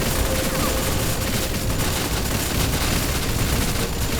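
Continuous gunfire from the PlayStation 2 game Rogue Trooper, a dense, unbroken fusillade of rapid shots with booming low end filling the whole stretch at steady loudness.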